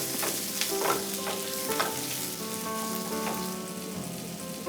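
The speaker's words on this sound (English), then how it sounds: "we'll saute this on a medium flame for 1 minute" Onions, garlic and chili flakes sauté in a pan over a medium flame, giving a steady close sizzle and frying crackle with occasional stirring scrapes throughout.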